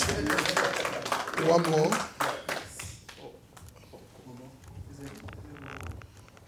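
Crowd clapping at a political party support forum, rhythmic and fairly close at first and then tapering off, with voices talking over it throughout.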